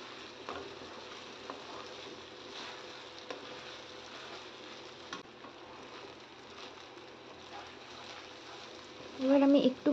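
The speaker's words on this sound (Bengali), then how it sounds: "এবার আমি একটুখানি নুন দিয়ে চালটাকে ভালো করে হালকা একটু ফ্রাই করে নিচ্ছি 2 থেকে 3 মিনিটের মতন" Rice with a pinch of salt fries gently in a pan for basantī pulao, a soft continuous sizzle with light stirring scrapes, while someone talks over it.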